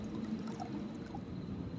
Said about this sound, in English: Go ahead and fill up our tank.